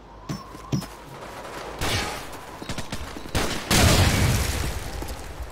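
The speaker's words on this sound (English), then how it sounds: "Give me some covering fire!" Gunfire in Call of Duty 4: Modern Warfare, with sporadic single shots early on, then dense bursts of automatic fire around the midpoint and a loud sustained volley near the end.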